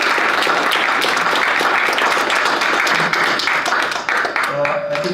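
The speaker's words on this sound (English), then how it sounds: "Let's have a big round of applause." Audience applause at the close of an evening entrepreneurship session: dense, steady clapping from a crowd fills the whole stretch, thinning slightly near the end.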